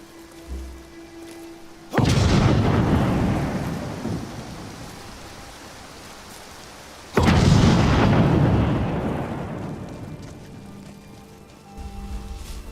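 Heavy rain pours in a stormy Skyrim game world, with two loud thunder crashes breaking in around two and seven seconds, each fading back into steady downpour.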